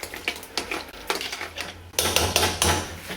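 Vegetable mince being mashed into potato mash in a pot, giving a run of close, irregular clanks and scraping thumps from the masher striking the pot, louder toward the end.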